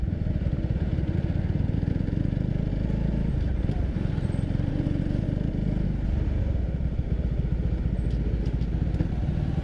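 A Suzuki Raider 150 motorcycle rides along the road amid traffic, its engine putting out a continuous buzzing drone with a rapid rhythmic pulse, loud and close, while someone talks over it.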